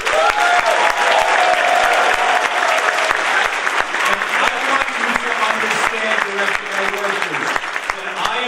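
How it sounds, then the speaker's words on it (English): Sustained crowd applause at a community breakfast honoring direct care workers, dense steady clapping from many hands filling the room for several seconds, with faint voices underneath. "I'd like to hear a louder applause for all the direct care workers that are here today"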